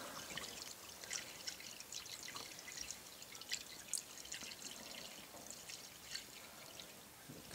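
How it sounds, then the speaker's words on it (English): Water pouring steadily into a home-brew beer fermenter, a continuous close trickle and splash with scattered drips, moderately soft and uninterrupted for several seconds. "We're adding the last of the water."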